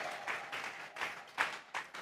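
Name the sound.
congregation applauding in church service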